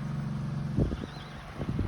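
Free-grazing horses on open pasture, stallions fighting over water, let out two loud squealing neighs close by over a steady low rumble of background noise.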